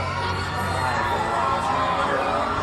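A crowd cheers and shouts in a steady, distant roar from a nearby theater at E3 2019 showing Star Wars Jedi Fallen Order, with no clear individual voices.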